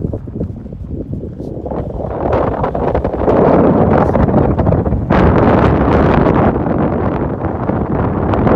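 Strong wind at Lake Havasu City ahead of a storm with a flash flood nearby, buffeting the microphone with loud, continuous roaring gusts that build and stay heavy throughout.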